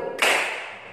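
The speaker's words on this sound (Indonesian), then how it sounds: "Tepuk satu," A single sharp hand clap rings out once, loud and close, after a brief quiet moment, with its reverberation trailing away in the room.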